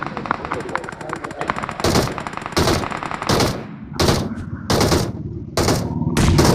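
Rapid bursts of automatic gunfire from a BGMI battle royale match, several loud volleys spaced through the clip over continuous game background noise, with a faint voice now and then.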